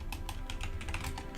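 Fingers type on a computer keyboard in a quiet room, a close, irregular patter of light key clicks coming in quick bursts.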